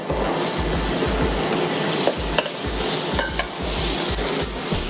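Onion and garlic sautéing in a pan until golden brown for Filipino bakareta, a continuous close sizzle with rhythmic stirring scrapes and clicks, no voices.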